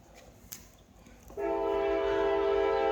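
A CSX freight train approaching a station sounds a loud, sustained horn that begins abruptly after a quiet start and holds steady to the end.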